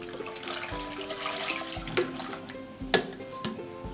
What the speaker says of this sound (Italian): Ed andiamo ad aggiungere pari peso di frutta di acqua fredda.